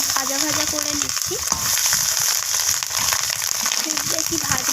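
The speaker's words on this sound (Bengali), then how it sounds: "এখন আমি লবণ আর হলুদ মাখিয়ে রাখা ডিমটা দিয়ে দিলাম। তো ডিমটাকে আমি একটু ভাজা ভাজা করে নিচ্ছি।" Rohu fish roe coated in salt and turmeric fries in hot oil with a loud, continuous, close sizzle and crackle, stirred now and then, with a voice speaking faintly over it.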